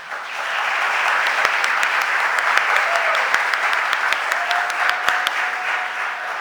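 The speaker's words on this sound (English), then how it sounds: "Let's give her a round of applause." Steady applause fills a city council chamber as the room welcomes a state representative, a dense even clatter of many hands with a few sharper claps standing out near the microphone.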